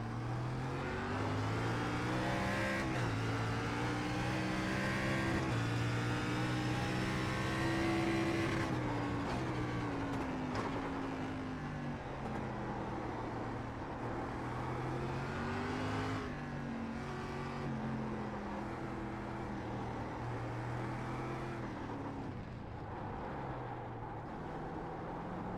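A race car in the iRacing sim at Long Beach downshifts repeatedly, its engine pitch stepping sharply down and climbing again. The engine is loud and close throughout, with no voices.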